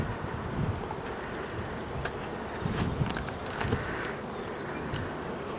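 Honeybees from a struggling, queenless hive give a steady, low, diffuse buzz that holds throughout, mixed with some wind noise.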